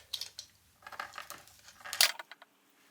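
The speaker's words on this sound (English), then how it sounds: "Gonna cut off the extra on this lead." A single sharp metallic snip rings out as cutters clip off the excess wire lead on an Ampeg SVT amplifier fan, preceded by faint handling clicks.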